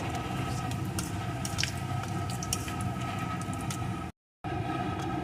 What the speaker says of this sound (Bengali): এখন এই তেলের ভিতরে ফোড়নে দিয়ে দেবো একটা শুকনো লঙ্কা একটু গোটা জিরে ফোড়নগুলো সুন্দর করে ভেজে নেব